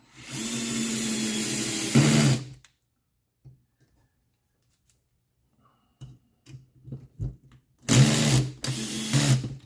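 Power tool driving parts into a Tekno ET48 2.0 RC buggy build, a close whirring motor burst, then quiet handling clicks, then two more short whirring bursts.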